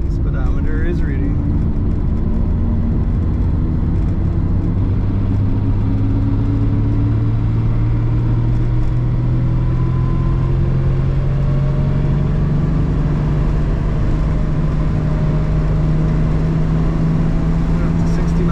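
A 1967 Mercedes-Benz 250SL Pagoda cruising at about 60 mph, with a steady engine drone that slowly rises in pitch, constant road and wind rumble, and possible slight tire vibration, all loud and close inside the cabin.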